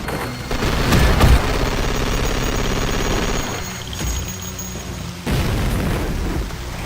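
Grenades fired from a Gatling cannon's alternate fire in a video game burst as heavy booms, the loudest near the start, then a dense rumbling barrage that keeps going, dips briefly and picks up again.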